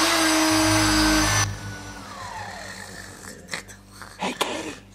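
Power drill whirring loudly in a comedy skit, with a strong motor hum for the first second and a half, then fading into lower scraping and rustling noises.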